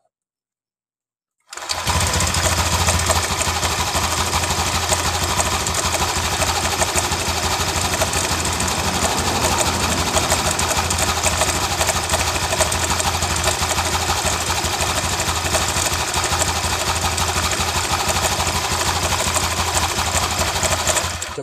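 Honda Genio scooter engine running in a workshop with a rough, rattling noise, a loud, steady, buzzing drone with a ticking rattle after a silent start, continuing unbroken throughout.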